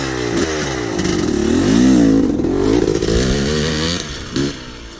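A Yamaha YZ 250 two-stroke dirt bike engine revs loudly and close, its pitch sweeping up and down in a raspy, buzzing warble, with no speech.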